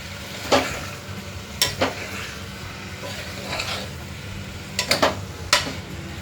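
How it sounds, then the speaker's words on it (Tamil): Beetroot stirred into onion and tomato in a pan for beetroot kulambu, a soft low sizzle beneath several sharp scraping clacks of a spoon against the pan at irregular intervals, with no talking. "இப்போ நம்ம இந்த பீட்ரூட்டை அதோட போட்டுடலாம். பீட்ரூட் நல்லா வதங்கணும்."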